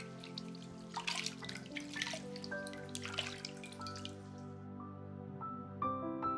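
Water drips and splashes as peeled carrots are rinsed under a tap, with irregular close wet squishes and trickling, then fading to quieter drips near the end, with no talking.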